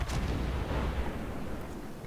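Warship guns booming in World of Warships aboard the Kirov, a heavy low rumbling blast that rolls on through the whole moment, moderately loud and unaccompanied by talk.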